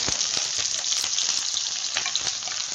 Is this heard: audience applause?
no